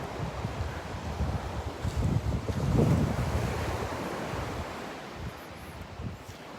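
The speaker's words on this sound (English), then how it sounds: "Just because of the rough surf." Rough surf rolling onto a beach at Delnor-Wiggins under a yellow-flag warning: a steady broadband wash of breaking waves mixed with wind buffeting the microphone, swelling briefly louder near the middle before easing back.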